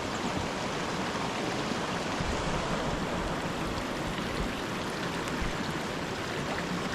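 Swollen, flooded river rushing through a forest after heavy rain: a steady, dense broadband roar of turbulent water, constant and fairly near, with no voices.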